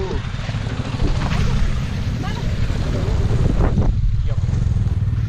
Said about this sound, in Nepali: जेरी गल्लीबाट बाइकहरू निक्लेको